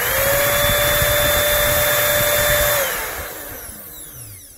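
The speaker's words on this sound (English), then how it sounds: "here's a little vacuum cleaner I got just to show you how it works" A small vacuum cleaner running on 120-volt AC from an inverter whirs steadily with a high whine, then its motor winds down and the sound fades out near the end.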